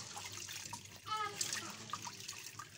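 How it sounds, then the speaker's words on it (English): Hands wash food in a container of water outdoors, making close sloshing and splashing with gentle trickles and a faint voice in the background. "I'm just going to use my hand to wash it a bit"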